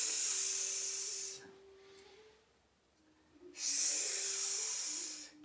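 A person performs the Qigong healing sound for the lungs, a long, breathy hissing exhalation repeated twice with a quiet pause between, close and steady like escaping air.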